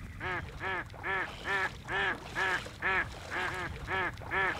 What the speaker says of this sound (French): canards, ils sont contents.